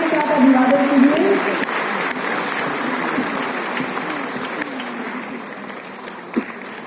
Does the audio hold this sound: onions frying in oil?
no